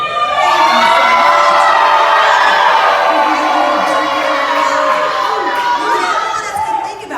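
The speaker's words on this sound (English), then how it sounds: "Come on, yell out your color." Campers at a University of Georgia camp shout and cheer together as a loud, sustained crowd roar of overlapping young voices yelling out their group colors.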